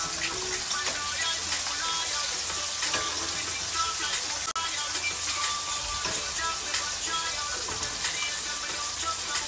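Chicken wings frying in a pan give a steady, loud sizzle throughout, with scraping and clatter as they are flipped over.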